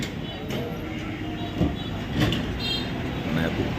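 A train at Rajshahi railway station rumbles and clatters through a busy ambient wash, with faint thumps and a passing voice or two in the background.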